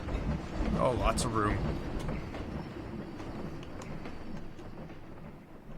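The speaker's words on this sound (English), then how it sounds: "Is that a train I hear coming behind me?" A train rolls past in the Planet Coaster theme-park game with a steady rumbling clatter that stays loud and then eases off, while a player speaks briefly over it.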